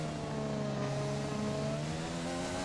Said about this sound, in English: The engine just sounds completely flat.